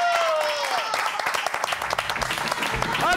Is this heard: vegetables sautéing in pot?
no